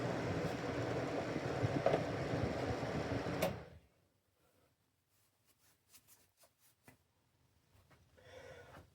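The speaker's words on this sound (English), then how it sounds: "There's some sort of like rattling noise." A Vornado 133 compact air circulator fan runs with a steady rattling whir for a few seconds, then cuts off abruptly, leaving near silence with scattered faint clicks and a soft rustle.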